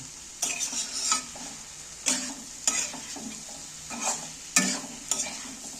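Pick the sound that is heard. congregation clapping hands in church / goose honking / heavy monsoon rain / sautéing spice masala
sautéing spice masala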